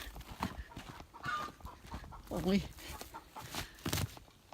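A backyard hen gives a few short clucks between bursts of a person coaxing her outdoors, the bird sounds brief and close amid the talk.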